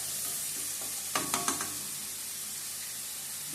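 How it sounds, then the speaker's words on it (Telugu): Onion frying in a pan for a carrot and beetroot fry, a soft steady sizzle with a brief cluster of clinks and knocks from a utensil partway through. "ఉల్లిపాయ అయితే చక్కగా వేగిపోయింది."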